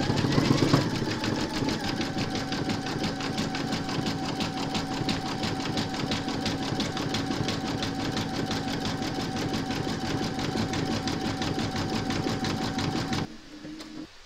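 An embroidery machine sews a zigzag satin stitch around the raw edges of a large Mrs Claus applique, running steadily and fairly loud for about thirteen seconds before stopping abruptly.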